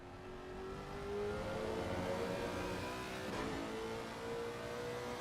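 A GT3 race car in a sim racing game on the Kyalami circuit gives a steady mid-pitched engine roar that rises and falls through revs and downshifts, continuous at moderate level with no talking.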